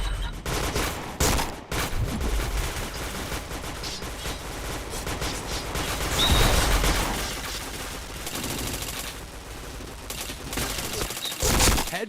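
Rapid gunfire bursts in the first-person shooter video game Point Blank, loud clustered shots and volleys across the clip with short gaps, a faint voice underneath.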